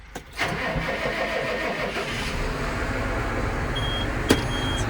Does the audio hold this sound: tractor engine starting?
yes